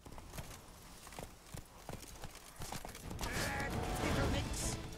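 Horse hooves from The Witcher 3: Blood and Wine, a steady clopping rhythm of distinct hoofbeats, moderately close, followed by a louder rushing burst of noise near the end.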